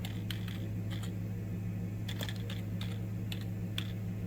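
Keys on a computer keyboard tapped in short irregular bursts while a search for music is entered, close and fairly quiet over a steady low electrical hum.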